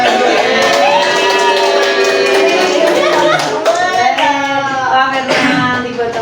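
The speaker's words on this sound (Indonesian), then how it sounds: "Tepuk tangan." Clapping and cheering greet the top three quiz winners at a positive-culture school dissemination event, with a voice and shouts mixed into dense, steady applause running throughout.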